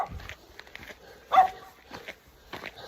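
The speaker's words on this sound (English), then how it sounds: "Dogs about." Dogs bark intermittently along a gravel road, a few short, fairly distant barks with one louder bark near the middle and faint crunching footsteps between them.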